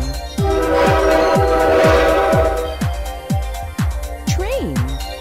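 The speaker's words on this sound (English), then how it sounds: "Train." A cartoon train in a preschool kids' puzzle game chugs with rapid rhythmic puffs while a loud horn blast swells in the middle, followed by a short rising whistle-like tone near the end.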